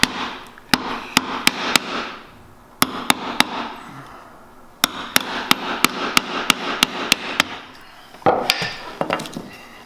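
A chisel pares the mouth cut of a wooden Japanese hand plane, sharp, close taps in irregular bursts, a dozen or more strikes with brief pauses and a scraping rustle near the end.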